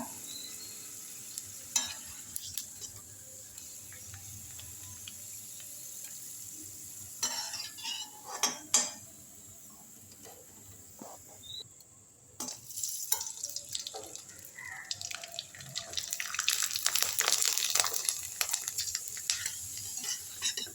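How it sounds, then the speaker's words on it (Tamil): Murukku snacks fry in hot oil with a steady close sizzle that swells and crackles as more dough goes in, with occasional stirring and utensil clinks. "எண்ணெய் காஞ்சிருச்சு. வறுத்து பார்த்துடலாம். பாருங்கள் எப்படி பொரியுது பார்த்தீங்களா?"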